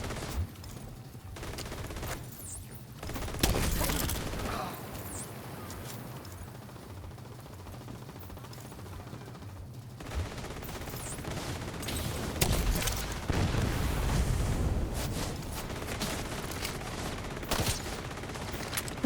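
A video game minigun fires in long sustained bursts with heavy rattling, broken by short gaps and some louder blasts, close and loud with almost no speech.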